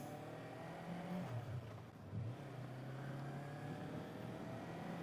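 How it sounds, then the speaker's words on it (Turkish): A motorcycle ride around Gaziantep on a cool day, the engine humming steadily with a low drone and brief rises and dips in revs, mixed with wind rush, no speech. "Ben de motorla küçük bir tur atayım dedim."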